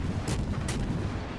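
Cruiser guns in the World of Warships Legends naval game fire high explosive shells as two quick, sharp reports over a low rumbling background, with no talking.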